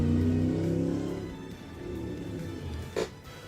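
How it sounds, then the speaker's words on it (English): A car engine revs loudly and steadily, its drone fading slightly before a brief sharp bump near the end, with no talk over it. "I don't even know if y'all heard that engine noise or not"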